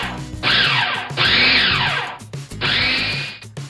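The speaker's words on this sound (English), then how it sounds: "Then simply blend until smooth." A blender whirs loudly through vegan spinach artichoke dip ingredients with lemon juice, dried basil, salt and ground pepper, running in three strong bursts with short pauses between them.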